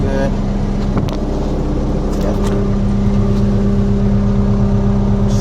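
A JCB 1CXT backhoe loader's diesel engine drones loud and steady during a ride, with a constant low hum and a faint rise in pitch.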